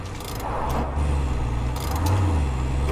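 A car driven in the video game Far Cry 5, its engine droning steadily with a low rumble and rising and falling revs, loud and close, alone with no voices.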